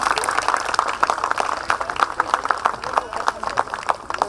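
A summit audience, standing to welcome the Jeenis college group, applauds in a fast, steady patter of many hands, fairly close and sustained throughout, with a voice talking over the clapping.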